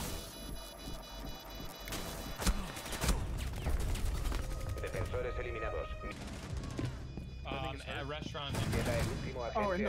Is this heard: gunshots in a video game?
yes